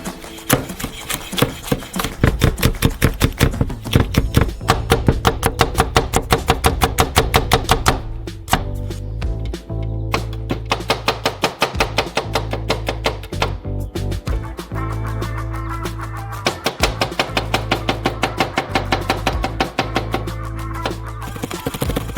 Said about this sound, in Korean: 원형으로 썰어주세요.